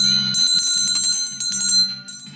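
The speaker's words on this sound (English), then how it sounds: "Emily, let's ring the bell to start the class" A bell rung to open a sewing class, bright sustained metallic ringing with several quick repeated strikes that ring on and fade toward the end, clear and close with no talking.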